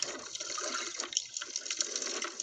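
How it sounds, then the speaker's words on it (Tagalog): Water churns and swirls underwater in the sea near a fish trap, a continuous muffled rushing with faint bubbling and small clicks, steady and close. "Dinig na lang natin yung galawan ng tubig, oh, sa ilalim."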